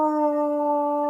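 A man imitates a wolf howl by voice on a football fan podcast, holding one loud, steady, sustained tonal note for about a second with no other sound.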